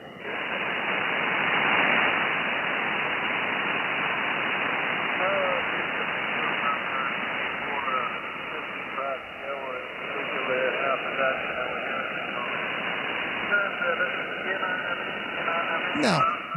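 Ham radio receiver hiss and static with noise reduction applied: a steady, band-limited wash of noise with faint, garbled signal traces underneath, continuous and moderately loud.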